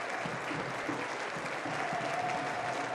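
Crowd applause at a professional soccer match between San Antonio FC and Colorado Springs Switchbacks FC, a distant, steady wash of clapping from the stands as a player leaves the field.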